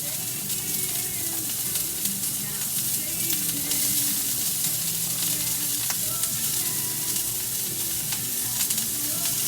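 Red onions fry in olive oil in a hot skillet, giving a constant, close sizzle with faint crackles and occasional stirring throughout.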